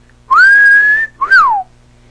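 A person imitates a cat whistle with their voice, two loud close whistled notes: a long rising-then-level tone followed by a short rising-and-falling swoop.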